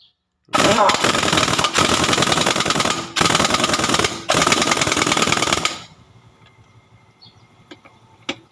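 A pneumatic impact wrench tightening the front wheel nuts on a truck, loud and close, firing in three long rattling bursts of hammering before it stops and leaves quiet workshop background.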